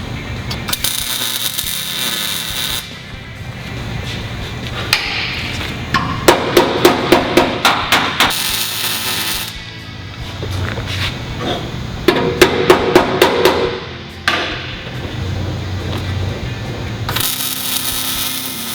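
A hammer folds the outer steel wheel tub flange over on a 1967-1969 Camaro. The blows ring close and loud, coming in quick bursts of rapid strikes with short pauses between them, and no one speaks.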